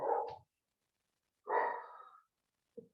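A nearby dog makes two short bark-like bursts with some breathy snorting, each under half a second, followed by a brief faint sound, all alone with no talk.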